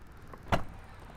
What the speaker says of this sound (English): Boot opens nice and smoothly